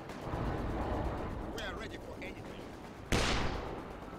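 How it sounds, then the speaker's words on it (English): Distant battle noise from a Company of Heroes 2 match, with a steady rumble of gunfire and a sharp, loud burst of shots near the end, under faint voices. "And he has machine guns."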